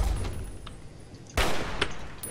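Gunfire bursts from the video game Fallout 3 (Tale of Two Wastelands), a sharp loud shot followed by a few lighter cracks over a constant game ambience.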